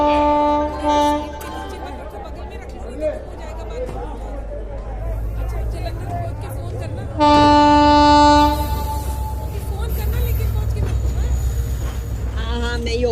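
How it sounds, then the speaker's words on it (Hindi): The Hoshiarpur Express passenger train arrives at a station platform, rumbling and clattering steadily with loud horn blasts, while a station announcement and crowd chatter carry over it. "गाड़ी संख्या 1401 होशियारपुर एक्सप्रेस प्लेटफॉर्म क्रमांक 2 पर आ रही है"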